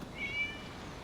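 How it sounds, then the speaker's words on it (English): A single short cat meow in the video game Genshin Impact, a thin rising and falling tonal call, fairly quiet over a soft game ambience with no speech. "It was just a cat."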